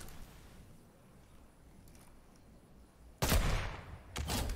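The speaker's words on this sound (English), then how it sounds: "So apparently this new sniper can actually pierce through people." Sniper rifle shots in Fortnite ring out as two loud, sharp bursts after a stretch of low game ambience, the second shot following about a second after the first.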